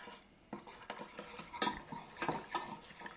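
Milk and all-purpose flour stirred together in a small saucepan, a utensil scraping and clinking against the pan in quick irregular strokes, close and fairly quiet with no talking.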